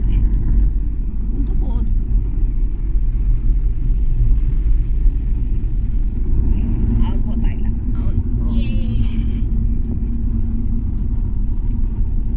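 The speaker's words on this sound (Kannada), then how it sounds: "ನನ್ನ ಮಗ ಗಾಡಿ ಓಡಿಸ್ತಿದ್ದಾನೆ" A car is driven on a road about 20 km from Sakleshpur, with a steady, loud low engine rumble and road noise throughout. People talk inside the car over it.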